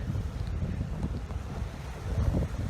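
Strong wind buffeting a microphone at the beach in Valencia, a loud, gusty low rumble that surges and dips throughout, with faint surf behind it.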